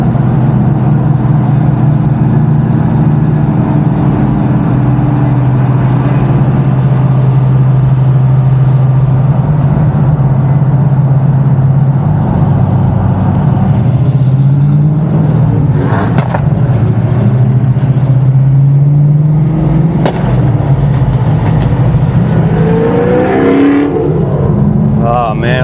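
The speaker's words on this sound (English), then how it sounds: "Man, I love that Camaro. There it goes." Classic pro touring cars cruising in a convoy, including a Camaro driving past, with a loud continuous engine drone and rising revs, heard from inside a moving car with voices talking over it.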